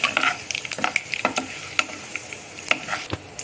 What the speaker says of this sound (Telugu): ఈ ఎండుమిర్చి మంచిగా వేగాలి, అప్పుడు అనేది దీని ఫ్లేవర్ అనేది వస్తుంది